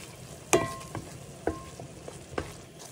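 Flour cooking in a pan for katsu curry sauce, stirred with a utensil: sharp scraping clinks and taps at irregular intervals over a faint, soft sizzle, close and fairly quiet.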